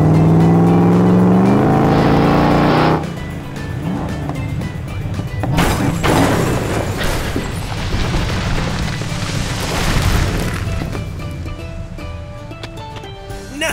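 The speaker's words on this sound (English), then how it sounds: "The purple truck is going to jump through this three-sided shape." A purple toy truck jumps through a three-sided shape and crashes through 20 blocks and a large number 20. A short musical jingle gives way to loud, continuous rumbling and clattering crashes that carry on to the end.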